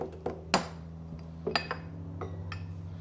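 A few light metallic taps and clinks ring out as a motorcycle engine side cover on a TTR 230 is knocked to loosen it, spaced irregularly over a low steady hum, close and moderately quiet.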